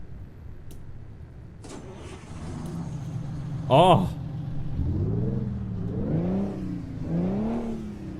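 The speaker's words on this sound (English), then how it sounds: "Hopefully we got a sound here for that one." A Mack RS700 truck engine in American Truck Simulator cranks with a sharp burst, catches into a low idle, then revs up and down in several swelling pulls, close and loud, with a brief voice over it.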